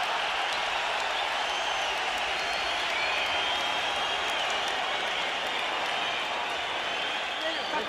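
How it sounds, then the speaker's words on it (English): A roaring boxing crowd at a championship bout between Marco Antonio Barrera and Juan Manuel Marquez, a dense, sustained wall of cheering and clapping that holds steady for the whole stretch. "and the crowd goes nuts"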